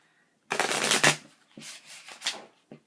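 A deck of Kuan Yin oracle cards is shuffled close up in several crisp riffling bursts of varying length, the first the longest and loudest, with brief silences between and no talking.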